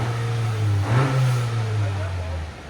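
A 2022 Honda Accord Sport with the 2.0 turbo and factory exhaust gives one brief, subdued rev that rises and settles back to a low, even idle, heard close up.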